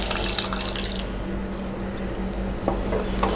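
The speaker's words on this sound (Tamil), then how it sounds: "வேக வச்சிருக்கிற பருப்பை ஊற்றிக்கலாம்." Cooked lentils poured from a vessel into simmering spinach kootu in a home kitchen, a steady wet liquid splashing and squishing with a few brief drips over a low background hum, moderately close.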